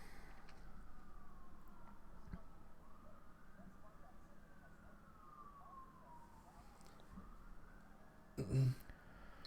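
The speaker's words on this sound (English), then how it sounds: "There's like 3-4 sirens going on outside." Distant sirens wailing outside in Oakland, their pitch sweeping slowly up and down under a steady low rumble, with a brief thump near the end.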